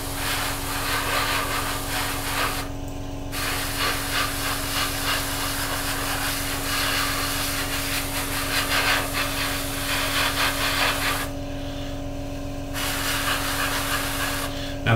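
An airbrush sprays light misty clear coat at 15 psi onto a 1/48 Revell Typhoon FGR4 model, a steady close hiss running throughout and cutting out briefly twice, over a constant low hum.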